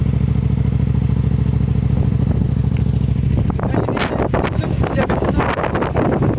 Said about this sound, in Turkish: Şu anda gördüğünüz gibi araç motorum gidiyor.